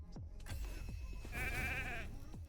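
Sheep bleating in a video game, several short wavering bleats near and fairly loud, with game effects and thumps around them.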